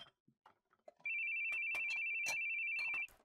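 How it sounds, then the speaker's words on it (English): A cell phone ringtone sounds in the video game The Boogie Man: a steady, loud electronic tone holds for about two seconds while short bursts of other game sounds come and go around it. "Dude, can you just put your cell phone on silent? If you're not going to answer it?"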